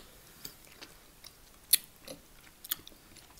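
Melon-flavoured chewy bubble gum being chewed close up, with soft irregular wet clicks and crunchy bites scattered over a few quiet seconds.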